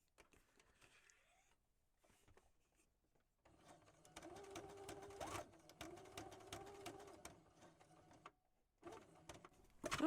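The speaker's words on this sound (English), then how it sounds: "Thank you very much, Mr. Sewing Machine." A sewing machine whirs in quick stitching bursts after a quiet start, pausing briefly before starting up again, close and fairly soft.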